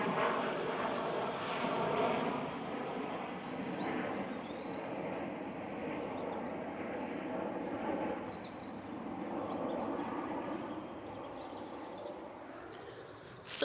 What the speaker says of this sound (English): Just wait for the plane to go so you can hear me.